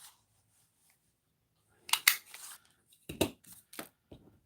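A handheld circle punch cutting paper circles gives a few short, crisp clicks and snips, close and fairly quiet, set apart by moments of near silence.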